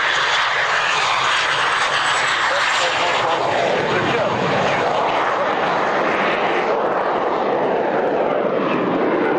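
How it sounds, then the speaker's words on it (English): An Alpha Jet rolls during an airshow, its engine giving a loud, sustained roar that shifts in pitch as it passes, with no voices over it. "Rolling now with little alpha jet."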